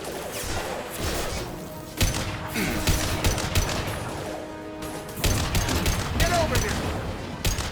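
Rapid, sustained gunfire from the video game Mass Effect Legendary Edition, with loud close shots in dense bursts and short pauses, under ongoing game sounds and voices.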